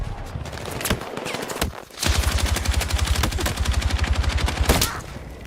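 Guns fire in a shooter video game, a rapid automatic burst of evenly spaced loud shots for a few seconds, preceded by scattered single shots and clatter.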